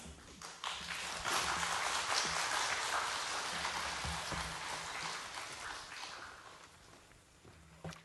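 A church congregation at a Friday prayer meeting breaks into sustained applause, a dense wash of clapping that swells early, holds steady, then tapers off with a few stray claps and murmurs.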